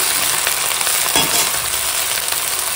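Shrimp coated in mustard and poppy-seed paste, added with chopped bottle gourd greens, fry in a pan with a loud, steady, close sizzle and a brief stirring scrape partway through.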